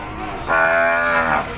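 A cow lowing at a livestock market, one loud, close moo of about a second that rises abruptly and holds steady before tapering off, with no talk over it.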